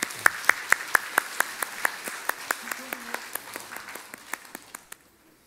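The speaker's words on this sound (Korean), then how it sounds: "수료자들 앞으로 나오실 때 우리 박수로 한번 환영해 주시기 바랍니다" A church congregation at a Sunday service claps to welcome new-member course graduates coming forward, a loud, evenly paced rhythmic clapping in unison that gradually fades over about five seconds.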